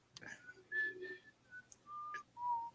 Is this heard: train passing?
no